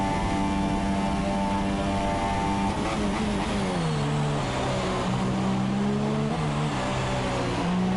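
Formula 2 race car engine in a racing video game, screaming at high revs on a flying lap at Mexico City, with a steady harmonic whine that drops and climbs through gear changes, loud and continuous without talk.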